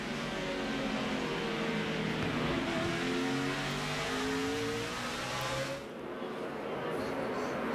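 Onboard a NASCAR Sprint Cup race car at Martinsville in 2010, the engine roars loud and close, rising and falling in pitch as the car accelerates and lifts, with a commentator talking over it.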